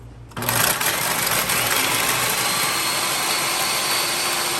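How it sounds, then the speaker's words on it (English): An electric grinder whirs steadily while grinding ham for fried ham and cheese sandwiches, starting abruptly and then running at a constant loud pitch, close up, with no talking. "We're going to put this in our grinder."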